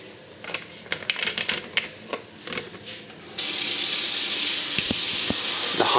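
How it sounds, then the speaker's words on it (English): Hot water runs from a tap in a steady, loud, hissing rush that starts suddenly, after a few sharp clattering clicks and knocks. "the hotter the water, the better"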